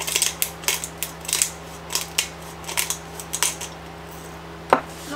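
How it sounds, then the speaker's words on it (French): Vinaigrette of olive oil, salt and pepper shaken in a small jar, making rhythmic rattling clicks in quick repeated bursts, close and fairly loud, ending with a sharper knock. "une fois que tous les ingrédients est dans notre petit bocal, on secoue et la vinaigrette est prête"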